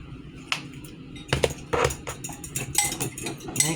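Utensils clink and scrape against a bowl as batter is mixed with salt and pepper, producing irregular close metallic taps and rattles with no talking.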